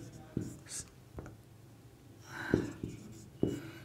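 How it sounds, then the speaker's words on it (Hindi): Someone writes math working on a board with a pen or chalk during a class. Faint scratching strokes and a few sharp taps come at irregular intervals, with a quiet voice murmuring in the background. "कुछ इधर लिखते हैं कि आपको दिखे"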